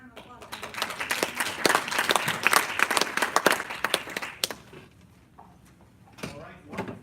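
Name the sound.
applause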